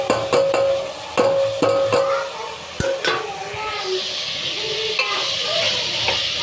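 Tomatoes tipped into a pan of frying onions and capsicum, with crisp spatula knocks and scrapes on the pan at first, then a hissing sizzle that builds and carries on steadily, close by.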